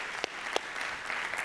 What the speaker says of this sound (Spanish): Y vamos a aplaudir todos juntos.